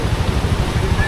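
Swollen Marikina river after days of rain, its strong current giving a loud, steady low rushing roar close by with faint voices mixed in.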